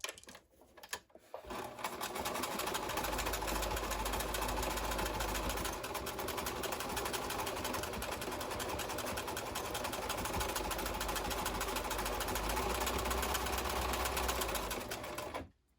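A sewing machine stitches fabric for a garden pouf, running in one long continuous whirring burst after a brief start, close and loud, with a steady mechanical rattle throughout.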